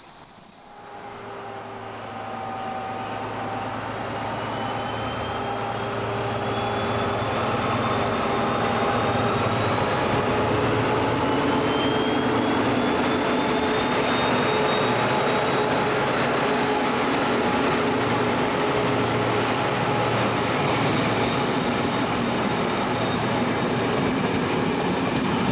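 A DR class 119 diesel locomotive rumbles through Wilten station in Saxony, a low engine drone and rolling train noise swelling from quiet to a loud, sustained pass with faint wheel squeal.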